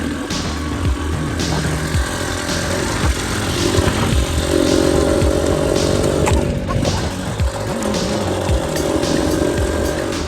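Enduro motorcycle engine revving and droning continuously during a UK extreme enduro race, loud and close with fluctuating throttle, with other engine noise in the background.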